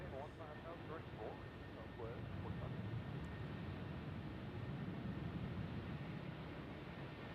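A Velo airliner taxiing out for takeoff at Nashville International Airport gives a steady, distant engine roar under wind, with voices speaking faintly over it.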